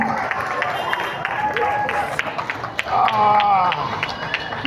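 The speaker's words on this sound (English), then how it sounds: "A big round of applause for them." School prize-giving crowd applauding two brothers, scattered clapping under a steady murmur of voices and crowd noise, with some close claps standing out over the hall's general din.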